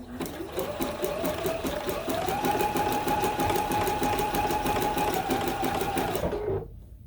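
A sewing machine stitches slowly over a quilt seam, its needle beating in an even, close rhythm with a motor whine that rises midway, then stops abruptly near the end.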